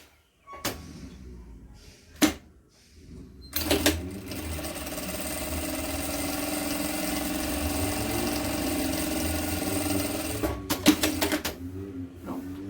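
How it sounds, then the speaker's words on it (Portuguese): A sewing machine stitches a safety seam along a fabric band on an embroidered cloth diaper, running steadily for about seven seconds. A few sharp clicks and handling knocks come before and after the run. "eu vou passar uma costura de segurança bem aqui em cima"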